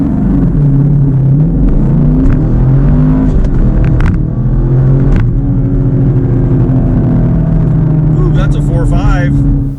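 A Chevrolet Camaro SS 1LE pulling hard in a 0-60 launch with a light rear end, a loud, close engine roar climbing through gears from inside the car, with tire noise and someone talking over it.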